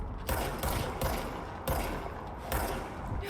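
Enemy gunfire in the action game Control comes as repeated bursts of rapid shots, several volleys spaced about half a second to a second apart, loud and close.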